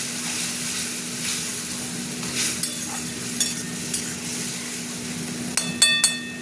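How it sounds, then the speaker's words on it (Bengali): Spice paste frying in a pan with softened onion and tomato for egg curry, a steady close sizzle broken by stirring scrapes and a few sharp clinks of a spoon against the pan. "এবার আমি মশলাটা ঢেলে দিচ্ছি। পেঁয়াজ টমেটো সব হয়ে গেছে, নরম হয়ে গেছে। এবার মশলাটা কষবো।"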